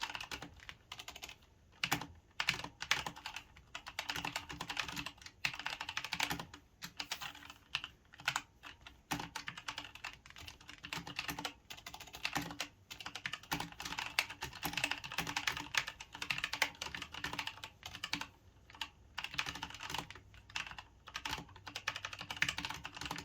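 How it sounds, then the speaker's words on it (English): Fast typing on a Logitech G513 Carbon mechanical keyboard with GX Brown Tactile switches, a close, continuous patter of crisp key clicks in irregular bursts with brief pauses, heard alone with nothing else. "Let's do a quick typing test."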